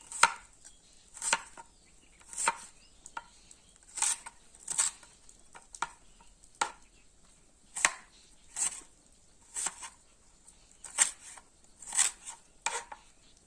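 Green onion stalks are chopped on a cutting board at an outdoor cooking spot, with about a dozen crisp, close knife strikes in an uneven rhythm and quiet between them.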